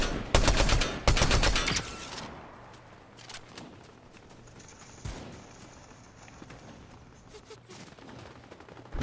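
Gunfire in Fortnite during a squads match: a loud burst of rapid automatic shots up front, then scattered single shots and distant pops over a quieter background.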